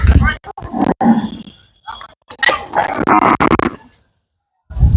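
Cattle at a busy cattle market in Khulna, Bangladesh, give loud nearby moos and low bellows in two bursts, mixed with crowd noise and a dog's bark.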